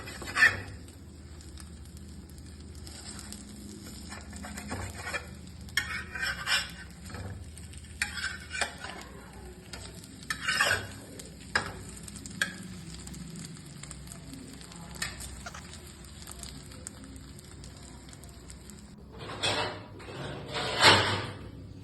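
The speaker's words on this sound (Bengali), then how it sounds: "এবার অমলেটটাকে আমরা পিস হিসেবে কেটে নেব 4 কোনা আকৃতিতে, যাতে দেখতে সুন্দর লাগে।" An omelette in a pan being cut into pieces, with faint sizzling under repeated scraping and tapping of a utensil against the pan, a louder clatter near the end, no talk.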